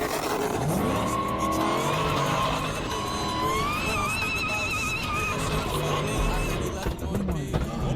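A supercharged Dodge Hellcat Redeye with a modified intake revs loudly and close by, its rising supercharger whine climbing in pitch over the engine roar, with a brief tire squeal and voices mixed in.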